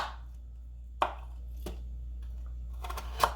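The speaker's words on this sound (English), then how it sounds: "what I'm going to do is just cut them into chunks" A knife chopping peeled potatoes into chunks for beef stew on a cutting board, a few sharp separate thuds spaced out over quiet, close and clear with no talk.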